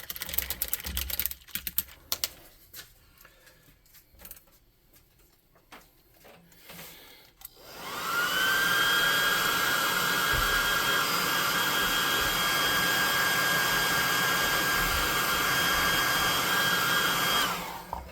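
A hair dryer blows steadily to dry a freshly painted miniature, a loud, constant whine running for about ten seconds after some quieter handling clatter.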